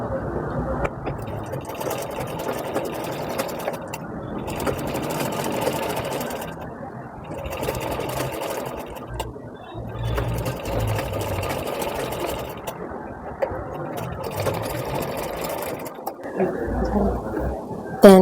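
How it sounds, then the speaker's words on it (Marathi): A sewing machine runs in long continuous bursts while stitching a four-tuck blouse, steady and close, stopping briefly between runs, with a voice talking over it. "हा शिलाई घ्यायची आपल्याला।"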